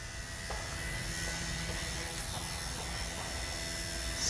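An XK K110 Blast 6CH RC helicopter flies outdoors in a breeze, giving a steady, continuous rotor-and-motor whir at moderate distance with no one talking.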